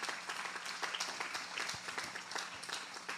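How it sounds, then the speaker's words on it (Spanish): A church congregation claps together in a dense, sustained round of applause that fills the room at moderate loudness. "Dale un aplauso al Señor, claro."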